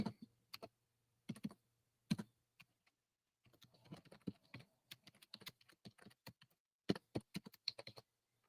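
Rapid bursts of typing on a computer keyboard, close and clear, with short pauses between runs of key clicks and no talking.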